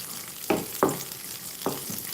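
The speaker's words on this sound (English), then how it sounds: "Now let's saute this" Raisins being sauteed in a pan for Omani chicken kabsa, a steady low sizzle with three sharper stirring scrapes spaced irregularly, heard alone without talk.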